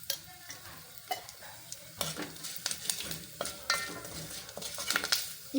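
Curry leaves and turmeric sizzle in hot tempering oil for buttermilk rasam. A steady frying crackle runs throughout, broken by irregular scraping stirs of a spoon against the pan. No voices are heard.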